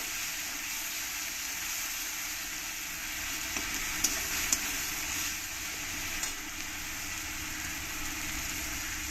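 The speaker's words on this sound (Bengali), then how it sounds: "আর এর মধ্যে দিয়ে দেব এক চামচ আদা জিরে আর কাঁচা লঙ্কা পেস্ট দিয়ে একটু ভালো করে ভেজে নিতে হবে" A spoonful of ginger, cumin and green chili paste fries in a pan for a rohu fish, ridge gourd and potato curry, giving a steady, soft sizzle with a few faint clinks and scrapes.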